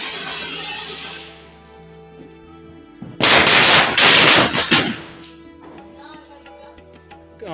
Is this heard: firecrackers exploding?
yes